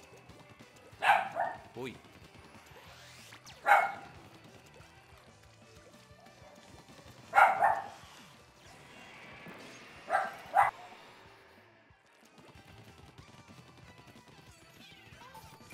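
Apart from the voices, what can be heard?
small pet dog barking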